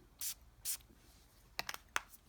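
Two quick hissing spritzes from a Zara Night Pour Homme 2 men's fragrance atomizer, then a few clicks and another short spray burst, close and quiet.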